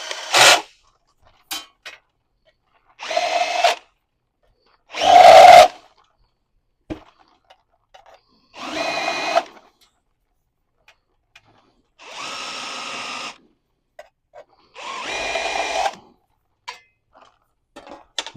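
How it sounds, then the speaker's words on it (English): Short bursts of a power tool deburring freshly drilled holes in a panel, several separate whirring passes with quiet gaps between them, close and fairly loud with no talk. "we deburr all these holes after you drill them so the panel lay down nice and flat"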